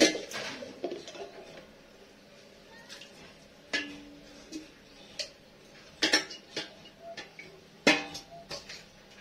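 Dishes and cutlery clattering in a home kitchen, a series of sharp metallic clinks and knocks spaced irregularly, close and fairly loud, with occasional faint background voice.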